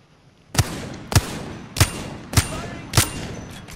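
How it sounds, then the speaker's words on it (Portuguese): Five evenly spaced gunshots in the Apex Legends video game, each a sharp loud crack with a brief tail, roughly every 0.6 seconds over low background noise. "Dois tiros de 41, Fernando, acredita."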